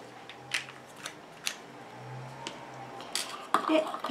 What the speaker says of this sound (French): Et je viens mélanger.